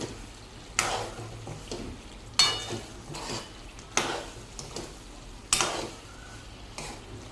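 Chicken masala is stirred into gongura chicken curry in a pan. A spoon scrapes the pan in regular strokes about every second and a half over a steady close sizzle, with no talking.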